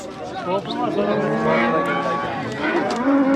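A cow at a busy livestock bazaar gives a drawn-out low moo, nearby, with crowd chatter and bargaining voices around it.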